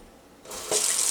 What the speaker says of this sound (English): I will put it in my 40-ounce cup and then just add water.